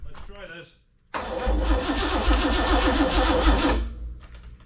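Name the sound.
Chevy 396 big block engine starting in a 1972 Chevelle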